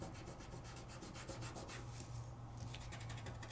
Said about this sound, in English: So I'm not rubbing so hard, but I'm not rubbing super light.